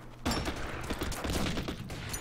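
Gunfire from the WWII strategy game Order of Battle, set at Bougainville with US Marines: a loud burst of overlapping shots erupts after a brief pause and rattles on as a dense fusillade to the end.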